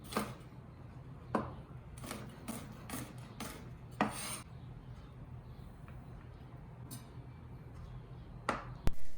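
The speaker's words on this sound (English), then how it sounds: "Peel and chop 3 cloves." Garlic cloves chopped with a large knife on a cutting board: a quiet, irregular run of crisp knife taps with gaps between, ending in a sharper knock, against faint room hum.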